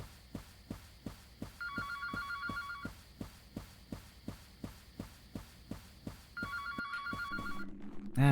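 A telephone in a video game rings in two bursts of bright electronic trills, set against a steady thumping heartbeat-like pulse, with a low tone appearing near the end.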